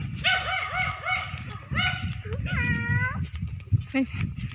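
A dog in a garden gives several close, high yips and whining barks in short bursts, while people talk nearby.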